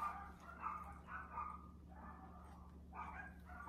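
Dog barks in a few short bursts, moderately near, over a steady low hum, with no talk.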